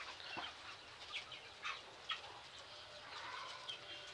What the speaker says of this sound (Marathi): कोंबड्या आहेत त्या फार आवडीने ते गहू खातात